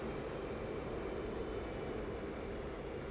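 An F/A-18 Hornet jet engine in the DCS flight simulator, a continuous low roaring drone that stays steady and even throughout with no voices.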